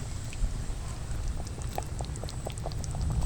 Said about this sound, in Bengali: সেই জন্য একদম কারির শেষে দিলাম, একটু ফুটিয়ে নামিয়ে নেব।